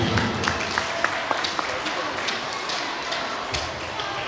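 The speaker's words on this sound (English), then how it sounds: "Please join me in welcoming our next speaker. His name is Mr. Ben. Round of applause," A school workshop audience applauds to welcome the next speaker, a dense, even patter of clapping from a crowd with a few sharper taps standing out.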